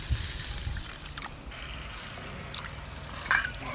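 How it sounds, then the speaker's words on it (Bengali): Red lentils (masoor dal) are rinsed in water by hand, giving soft sloshing, squishing and dripping sounds that come close and fairly quiet, with a brief louder swish near the end. "এই যে মুসুর ডাল খুব ভালো করে জল দিয়ে ধুয়ে নেব।"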